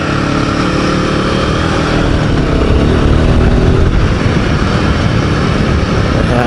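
A Royal Enfield Himalayan 450 motorcycle engine runs in second gear, a loud, steady, close drone with a slight rise in intensity midway, heard alone.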